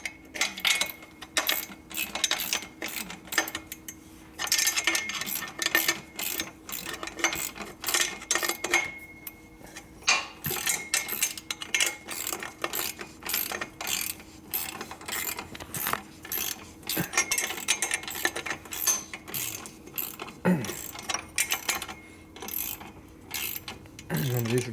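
A wrench tightens bolts on a 1974 Harley-Davidson shovelhead bobber, giving steady rapid ratcheting clicks in bursts over about 25 seconds, close and moderately quiet, with a faint hum underneath and no talking.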